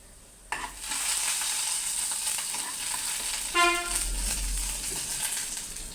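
Urad dal and chana dal roasting in a pan for tomato chutney, giving a steady close hiss of frying with a few scraping stirs, and no voices.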